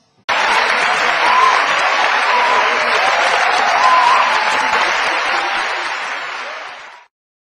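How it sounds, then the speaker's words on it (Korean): Loud, warm applause from a large student audience at a university lecture hall in Korea, a thick continuous roar of clapping that holds steady for several seconds and then cuts off abruptly. "여러분들의 할아버지들에게 박수를 보내야 합니다"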